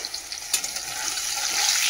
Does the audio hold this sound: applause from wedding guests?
no